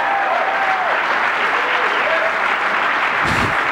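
A crowd at a pool match applauds loudly and steadily, dense clapping filling the room for several seconds, with a commentator talking faintly beneath it.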